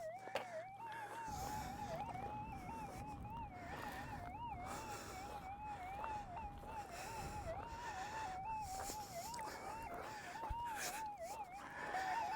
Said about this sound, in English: I can hear that EMI going off.